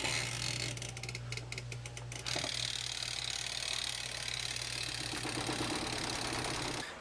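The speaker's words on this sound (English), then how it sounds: "suitably entertained by the chattering teeth sound the dryer made" A Japanese clothes dryer runs steadily with a loud mechanical chattering rattle like chattering teeth, rapid clicking bursts early on over a constant low motor hum, then a dense continuous whir.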